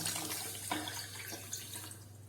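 Water poured into a saucepan already holding half a cup of sugar for custard malai cake syrup, a steady close splashing pour with a couple of small sloshes, no voices.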